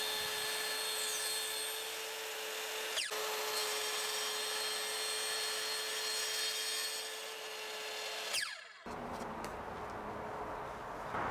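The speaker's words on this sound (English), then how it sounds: "The bulk of the material was cut off with the track saw." A track saw cuts through wood with a long, steady high whine, then stops sharply and spins down near the end, close and continuous.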